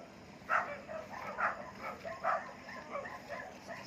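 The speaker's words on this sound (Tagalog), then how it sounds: "Oh, may aso kuya ha." A dog barks and yips in short bursts at a rural home in Mindoro, with three louder calls at a moderate distance over faint background noise.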